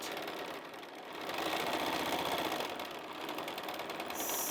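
A sewing machine quilting a fabric cushion runs in a steady, fast mechanical whir with rapid needle rhythm, rising and easing slightly as the pedal pressure changes, close and fairly quiet with no talking.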